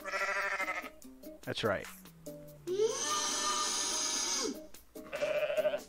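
A cartoonish goat bleat from the Goat Simulator video game, a long drawn-out wavering cry following a shorter call, sounding over game music and someone talking.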